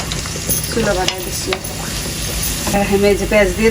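Onions fry and are stirred in a pan, with a loud close sizzle broken by repeated scraping strokes of a spatula against the pan.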